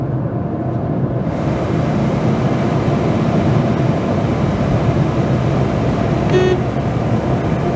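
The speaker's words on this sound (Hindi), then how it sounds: "रोड नॉइज़ है वो हल्का फुल्का आप देख पाएंगे" Steady low road rumble heard inside a moving 2020 Nissan Magnite cabin, a continuous muffled drone with a brief faint horn toot near the end.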